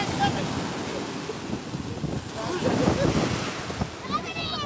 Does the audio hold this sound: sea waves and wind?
yes